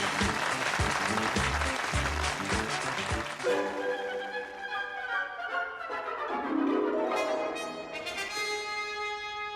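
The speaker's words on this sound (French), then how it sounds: "je crois vraiment qu'on peut s'applaudir" A studio audience bursts into applause for a few seconds, then the clapping gives way to sustained tonal music that rises and lingers to the end.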